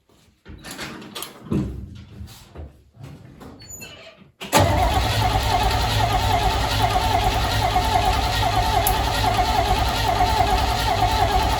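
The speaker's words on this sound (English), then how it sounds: "Just crank it over a little bit more." A 1968 Chevy C-10 pickup engine with a carburetor fuel problem, heard first through a few seconds of quieter shuffling and faint voices, then a loud, close, steady mechanical run that continues without a break to the end.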